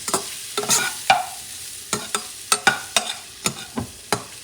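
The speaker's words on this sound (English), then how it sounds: "But you want to make sure the shrimp is cooked" Shrimp sizzles in a hot pan on medium heat while a utensil stirs and scrapes it in quick, regular strokes, each stroke a crisp close clatter over the frying hiss.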